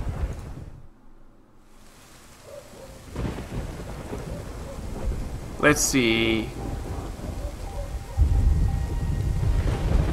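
Thunderstorm with rain in a video game, a steady hiss of rainfall carrying a sharp thunder crack partway through and a deep rumble building toward the end, with a brief spoken remark near the start.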